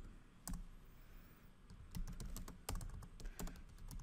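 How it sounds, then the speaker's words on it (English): Typing on a computer keyboard while entering a code comment in IQANdesign 4 Qcode software: close, uneven bursts of key clicks with short pauses between them, no talking. "we can start out by just typing in some comment here"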